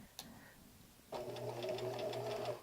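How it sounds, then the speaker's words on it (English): A sewing machine stitching a dart at a short stitch length, starting after a brief click and running as a steady, close whir for about a second and a half. "adjust my stitch length to about a 1, different on every machine, and then we're just gonna go off the top of the dart"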